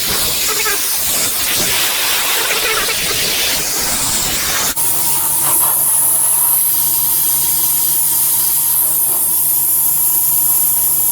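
An airbrush blasts a steady jet of air over drying plaster on a diorama building, a loud continuous hiss that shifts abruptly to a harsher, tonal whoosh partway through.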